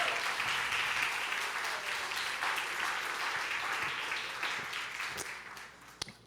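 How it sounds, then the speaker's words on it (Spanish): A church congregation applauds continuously, a dense wash of clapping that gradually thins and fades, with a couple of sharp claps near the end. "Y si lo crees, dale un aplauso"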